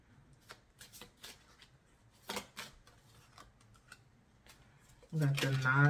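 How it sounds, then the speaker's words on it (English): Tarot cards are shuffled by hand in quick, soft riffling bursts and crisp flicks at close range, fairly quiet, before a voice begins speaking at the end. "We're going to get into the tarot. I'm going to pull a few cards."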